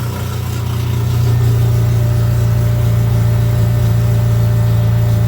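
A Dodge Daytona stock car engine, running on a stock computer with the engine light on, idles in a steady, loud, deep drone that never changes for the whole stretch, with no voices over it.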